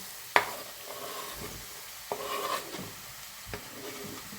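Vegetables frying in a pot, softly sizzling while a utensil stirs and knocks against the pot in a few sharp clinks, close but fairly quiet, with no voices.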